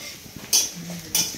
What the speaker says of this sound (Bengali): কি সুন্দর তরকারি নাড়া দিচ্ছে